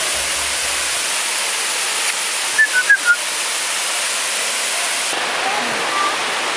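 Dudhsagar waterfall, a 60 m falls in Goa, India: a steady, loud roar of falling water fills the whole stretch, with a few faint bird chirps briefly above it.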